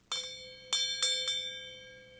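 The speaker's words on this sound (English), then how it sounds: "A bell." A small signaling bell struck four times, each clear metallic ring sounding bright and then decaying, alone and fairly quiet in a quiet room.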